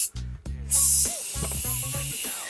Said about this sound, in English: just come out in a spray. You can probably hear it.